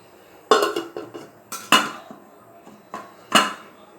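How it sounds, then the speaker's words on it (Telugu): Metal plates and pots clank sharply four times in a kitchen as a plate is set over a pot of cooking rice; the impacts are close, loud and separated by short pauses. "ఇప్పుడు దీని మీద ప్లేట్ పెట్టేద్దాం."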